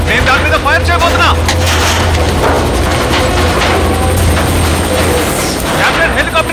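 A helicopter in an action film scene makes a loud, steady, low rotor drone that fills the whole clip. Voices and crackling effects sit over it.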